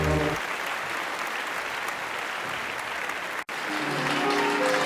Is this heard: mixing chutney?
no